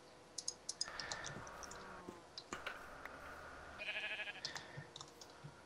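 Several short, thin bleats from a sheep in Minecraft ring out in bursts over a faint background with scattered clicks, fairly close and moderately loud.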